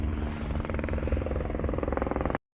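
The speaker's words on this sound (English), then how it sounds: "There's a KTLA Channel 5 news chopper." A KTLA Channel 5 news helicopter flies overhead near IKEA Burbank, its rotor beating in a steady rhythmic chop that stays fairly loud throughout before a brief drop-out at the very end.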